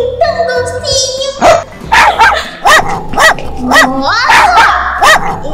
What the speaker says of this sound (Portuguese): Esse cachorro é muito bravo.